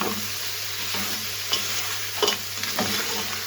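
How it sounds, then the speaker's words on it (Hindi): Tomatoes fry in a karahi with a steady close sizzle as a spoon stirs and scrapes through them, a few sharper knocks against the pan near the end, no voices. "ये भी डालकर हमने मिक्स कर लेना और इसे 5 मिनट के लिए हम ढक देंगे"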